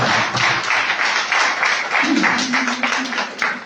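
A church congregation applauds steadily in a sustained, even wash of clapping, with a voice briefly rising over it partway through.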